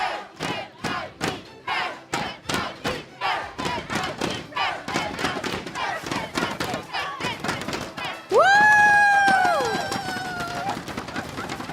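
Esports fans at the MPL Singapore Season 8 grand finals chant in loud rhythmic bursts for team NIP Flash, a steady pulse of shouts that gives way to a sustained roar of cheering near the end.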